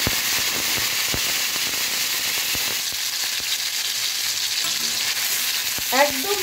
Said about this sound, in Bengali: একদম লো হিটে মশলাটা আমি 2 থেকে 3 মিনিট একটু কষিয়ে